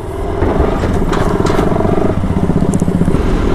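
A freshly washed motorbike's engine runs close by, a loud, steady throbbing idle with mechanical clatter, heard alone with no talk.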